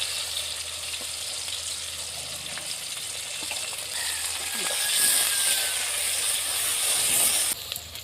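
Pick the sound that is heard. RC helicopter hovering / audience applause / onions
onions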